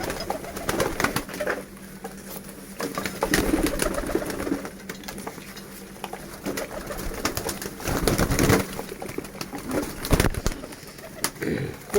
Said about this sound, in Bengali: আপনার কবুতরকে খাইতে দেবেন আপনার কবুতর আপনার কাছে আসবে আপনাকে ঘিরে ধরবে